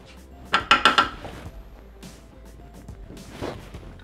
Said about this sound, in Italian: Con l'aiuto della spatola riuniamo sul fondo del boccale il cioccolato